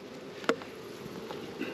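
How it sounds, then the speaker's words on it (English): A lone honey bee buzzes briefly near a hive being worked, a faint, short hum with a small tap, against quiet background noise. "One errant bee that just won't give it up."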